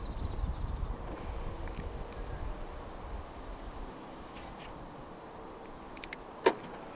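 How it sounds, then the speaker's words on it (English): Four power windows on a 2023 Jaguar I-PACE EV400 electric SUV rise together, a steady low motor hum with faint wind noise that fades midway, then a brief sharp thump near the end as the glass seats. "you are able to roll down all 4 windows in the car simultaneously, and to roll all of them back up together"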